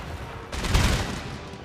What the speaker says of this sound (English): Are the cannons firing? Yes, they are.